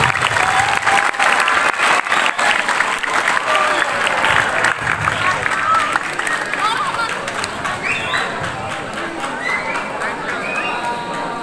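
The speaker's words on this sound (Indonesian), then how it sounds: "Tepuk tangan dulu." Audience applause at an Islamic boarding school Quran completion ceremony, a loud dense clapping that fades slightly toward the end, with crowd murmur and some speech mixed in.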